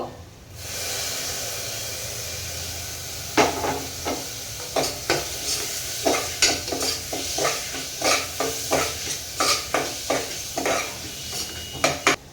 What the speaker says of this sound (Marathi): टोमॅटो परतून झालाय